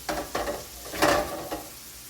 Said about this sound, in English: I'm just trying to cook the garlic down a little bit